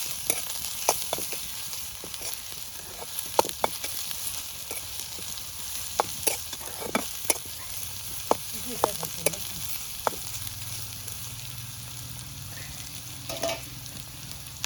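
Potatoes for aloo dom frying in a pan, a continuous sizzle broken by sharp scrapes and clicks of a spatula stirring, with a low hum entering near the end.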